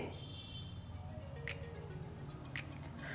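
Semolina batter seasoned with salt is stirred in a bowl, giving a soft, wet, squelching churn with faint clicks that runs steadily throughout at low volume.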